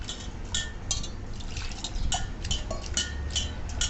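Flattened rice (poha) is swished and rinsed by hand in a bowl of water, with repeated wet splashes and sloshing, close up and with no talking.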